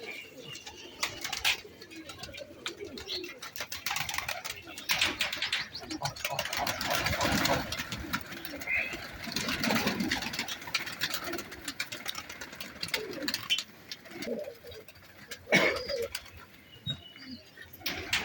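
Pigeons coo softly among steady outdoor background noise, with a faint engine hum and occasional chirps throughout.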